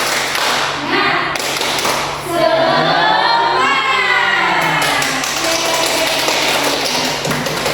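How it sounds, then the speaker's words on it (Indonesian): A class of schoolchildren clapping together in a rhythmic spirit clap, loud and close, with a sung or chanted voice rising over the hand claps in the middle. "Ayo, tepuk semangat."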